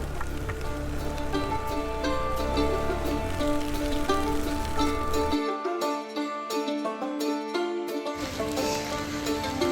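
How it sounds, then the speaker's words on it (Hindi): Heavy rain pours down steadily in the Kedar valley mountains, a dense close hiss that continues without a break. "बारिश तेज होने लगी है"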